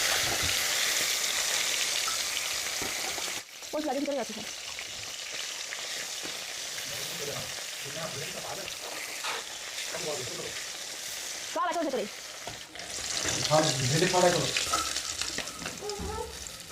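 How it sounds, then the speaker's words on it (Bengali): Fish fries in hot oil in a kadai wok, giving a steady close crackling sizzle throughout, with a voice talking intermittently over it. "প্রথমে আমি মাছটাকে ভেজে নিচ্ছি।"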